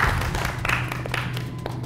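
A group of performers at a party claps for themselves, a dense, steady patter of many hands close by that holds evenly for a couple of seconds with a low hum underneath.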